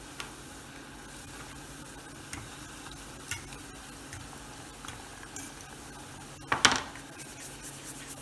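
Homemade fried dumplings drop into a pot of hot oil, giving a steady faint sizzle with a short louder burst of crackle near the end.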